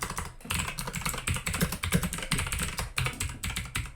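Someone types steadily on a computer keyboard, a close run of rapid key clicks with brief pauses between bursts.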